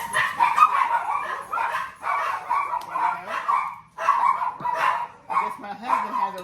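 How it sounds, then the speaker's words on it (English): Dogs bark and yip excitedly in bursts, fairly close, with short pauses between flurries and some whining mixed in. "So the dogs are greeting him"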